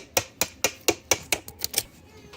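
A small hammer taps about nine times in a quick, steady rhythm while notching part of an electric reclining couch, each strike sharp and close.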